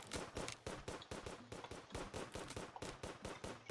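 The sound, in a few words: gunfire in a tower defense video game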